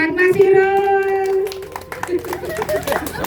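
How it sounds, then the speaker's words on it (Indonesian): Gathering at a waste-for-seedlings barter event applauding a participant, scattered clapping that rises after a sustained tone, with people talking over it. "Tepuk tangan buat Mas Irul"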